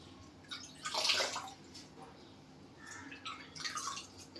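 Water drains and drips from a bunch of freshly washed mint leaves, with soft splashy trickles in two short bursts separated by quieter dripping, faint and close.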